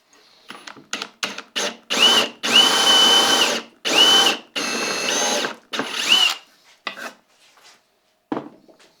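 Power drill boring dowel holes into wooden parts of a Shaker-style two-step step stool, heard as a string of short bursts followed by longer sustained whining runs, close and loud, trailing off into a few brief taps.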